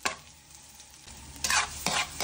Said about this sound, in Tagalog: sinuna ko na yung sibuyas